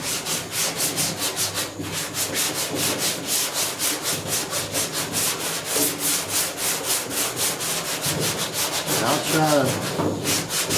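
Primer surfacer being block sanded on the dash of a 1966 Ford F100 pickup, a steady back-and-forth rasping stroke repeating rapidly and evenly, close and fairly loud, with a brief voice near the end.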